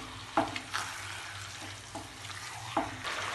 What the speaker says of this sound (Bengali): আর হাই ফ্লেমে চিকেনটা এবার আমি কষিয়ে নেব